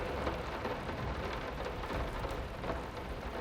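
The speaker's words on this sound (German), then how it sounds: "Der Regen ist sehr laut." Steady, loud rain pours down in the horror game Layers of Fear, a dense continuous hiss with faint rumbling beneath and no voices.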